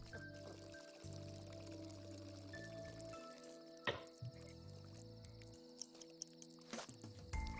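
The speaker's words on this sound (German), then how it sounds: "Das Wasser läuft aber noch ab." Water drains away in the video game Worms Revolution with faint pouring, dripping and squishy liquid sounds over game music, ending in a few small splashes.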